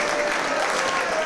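Crowd at a Deadlock Pro wrestling event applauding, a dense steady wash of clapping across a short burst with no break.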